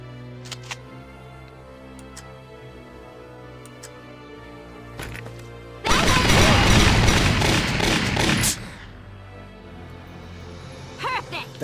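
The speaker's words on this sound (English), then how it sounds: "Watch out for long-distance gunfire." A dense burst of rapid video game gunfire in Valkyria Chronicles lasting a couple of seconds, loud and close, with talking and small game noises before and after.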